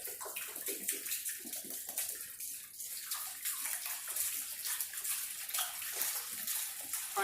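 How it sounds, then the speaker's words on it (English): Water from a one-gallon jug poured into a bucket indoors, giving a steady broadband splashing rush for about seven seconds with no talk. "You pour that in your bucket."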